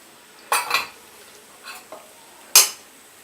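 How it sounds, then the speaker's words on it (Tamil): An egg parotta mixture is stirred and sautéed in a pan, with a few sharp metallic clinks of a utensil against the pan separated by near silence. "நல்லா கிண்டி வதக்கி"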